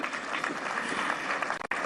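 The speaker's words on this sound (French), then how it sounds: "Je pensais que vous pouviez applaudir pour lui quand même" An audience applauds at an official address announcing reforms in the DRC, a dense, steady patter of clapping that cuts off abruptly near the end.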